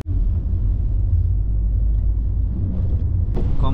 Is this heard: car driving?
yes